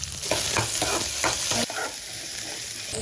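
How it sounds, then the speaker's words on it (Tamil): About fifteen small onions fry in a hot pan while being stirred, a steady sizzle broken by a run of rhythmic scraping strokes that stop partway through, close and fairly loud with no talking. "இப்போ நான் வெங்காயம் போட்டுக்கிறேன்"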